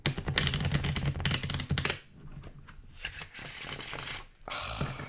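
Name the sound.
shuffling an oracle card deck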